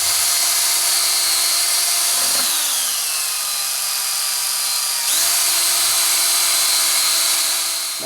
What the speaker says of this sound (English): drill a hole in here that was going to accommodate that